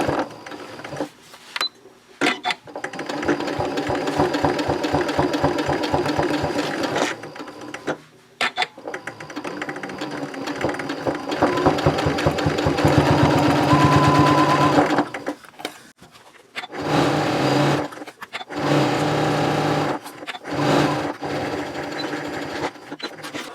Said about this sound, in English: I'm sewing on the Janome Continental M7 professional sewing machine